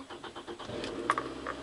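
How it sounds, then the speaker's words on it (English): Car engine being started while checking a car air conditioning fault, a faint cranking chatter that catches into a low idle, heard quietly with a few small knocks. "have someone else start the car"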